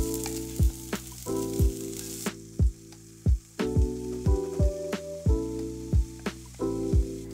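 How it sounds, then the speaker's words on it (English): Rinsed rice fries in hot oil in a pan for Mexican rice, a steady close sizzle broken by regular scraping stirs and knocks of a utensil against the pan, with no talking. "Once the oil is nice and hot, I can add my rice."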